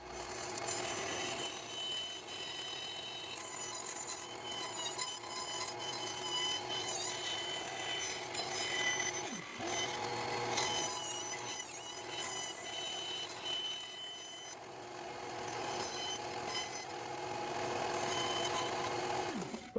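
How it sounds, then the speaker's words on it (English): Bandsaw cutting the outline of a table from wood, with a constant loud blade and motor whine and a shifting rasp as the cut progresses. "we're over at the bandsaw to cut out this outline of the table"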